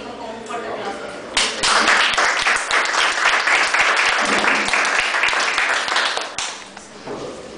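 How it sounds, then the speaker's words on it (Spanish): An audience breaks into loud, dense applause at a law lecture in Peru, a sustained wash of many hands clapping for several seconds before tapering off. "Aquí recibimos con un fuerte aplauso."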